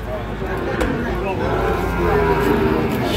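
A Sahiwal bull calf at a cattle market moos close by amid a busy, noisy crowd and people talking nearby, the low call rising over a constant babble.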